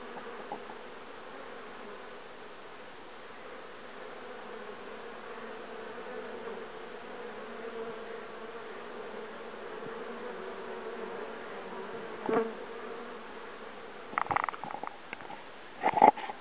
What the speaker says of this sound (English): There are some robber bees, not from this colony, but it's not like it was yesterday.